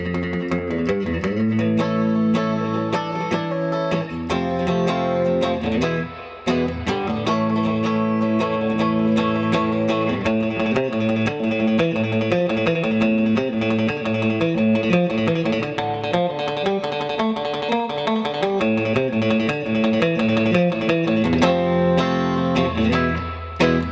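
Surf rock guitar on a Fender Stratocaster through a reverb pedal and reverb tank, continuous drenched rhythm strumming and licks played alone, loud and unbroken.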